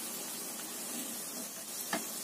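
Tapioca flour snacks frying in hot oil, a close, steady crackling sizzle with a soft brief clink near the end.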